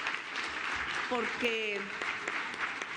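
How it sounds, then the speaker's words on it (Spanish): An audience applauds at a commemoration event honoring a women's congress, the clapping steady and moderately loud while a voice speaks over part of it. "Yo pediría que le demos un aplauso de reconocimiento,"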